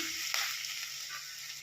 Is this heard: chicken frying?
yes